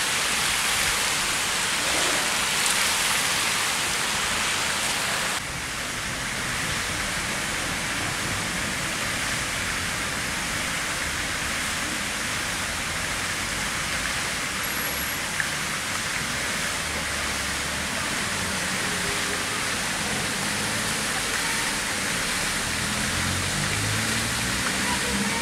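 Town fountain in Bibione splashing steadily, a continuous broadband wash of falling water that stays close and even throughout, with faint street ambience behind it.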